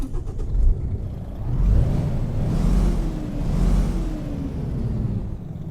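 Paccar MX-11 diesel engine in a Peterbilt 378 truck in American Truck Simulator, a steady mid-pitched rumble that swells and revs up and down in waves with a rising whine, loud and close with no talk.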